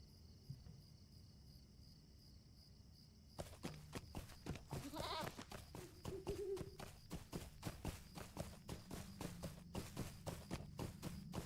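Goat bleating in the online game The Lord of the Rings Online, a few short bleats around the middle over a steady insect-like chirping ambience with busy game clicks and rustles.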